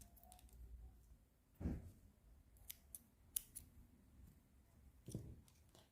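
Scissors snip through knitting yarn while finishing a baby's seed-stitch hat, giving two short, close crisp cuts about three and a half seconds apart, with faint handling rustle and small clicks in between.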